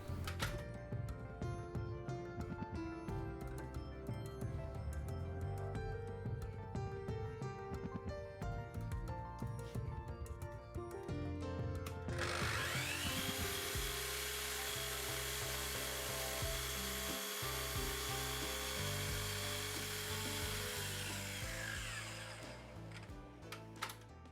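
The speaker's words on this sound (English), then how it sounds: "Next job is to cut the miters on the end of the handles." A chop saw whines loudly through wood cutting miters on handles in a sustained cut lasting several seconds, then spins down, with background music throughout.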